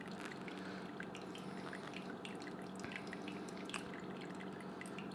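Water from a stovetop kettle pouring slowly onto pour-over coffee, a faint steady trickle with scattered small drips, quiet and close.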